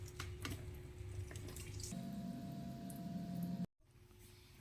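Cooking water pours off boiled vegetables in a home kitchen, a continuous splashing gush into a sink that steadies, then cuts off abruptly near the end.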